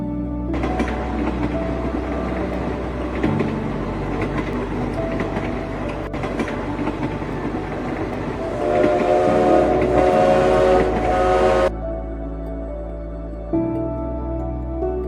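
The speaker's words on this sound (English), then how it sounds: "Alishan Forest Railway is a famous mountain railway of Taiwan, departing from Chiayi City and ending at the Alishan Plateau." Alishan Forest Railway mountain train in Taiwan running steadily with a low rumbling drone throughout and a brighter, louder whistle-like tonal stretch midway before it drops back to the engine rumble.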